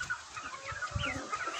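Black Copper Marans chickens, a rooster among hens, clucking and murmuring softly in a coop, with low steady farmyard background noise and no talk.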